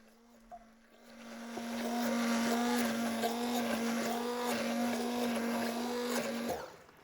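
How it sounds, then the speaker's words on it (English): A blender blitzes peas with chicken stock into a smooth puree for pea and mint risotto. It starts up loud and close and holds a steady motor whine for several seconds before it cuts off. "we're just going to blitz that up until we get it a lovely paste as smooth as"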